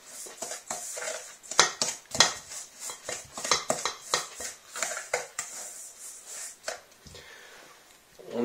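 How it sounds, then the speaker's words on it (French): A spatula mixes brown vergeoise sugar with spices in a mixing bowl, making irregular scraping and clinking strokes against the bowl, close and moderately loud, with brief pauses between bursts of stirring. "Nous allons mélanger le sucre vergeoise avec les épices"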